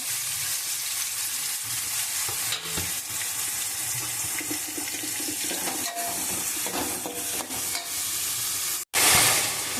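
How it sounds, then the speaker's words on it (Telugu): Onions and green chilies frying in hot oil for a prawn and gongura curry, a loud steady sizzle filling the whole stretch with occasional stirring scrapes, then a brief cut and a sharper burst of sizzling near the end. "Oil heat ఎక్కిందండి. ఉల్లిపాయలు పచ్చిమిరపకాయలు వేసుకోవాలి."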